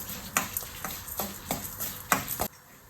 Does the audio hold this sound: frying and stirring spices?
yes